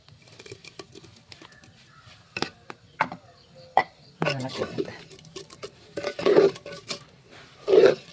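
Ground coconut paste goes into a pot of cooked cauliflower for pulissery: scattered clinks and scrapes of a spoon against the pot, quiet between knocks, then louder stirring bursts near the end, with a voice talking.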